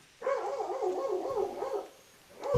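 A dog gives one drawn-out wavering howl-like bark, close and fairly loud, then falls silent before a second short bark starts at the end.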